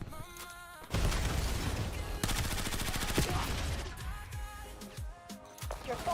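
Dense, continuous gunfire in a Call of Duty Black Ops match, with rapid automatic bursts and sharp shots layered over game noise and music, loud and sustained throughout.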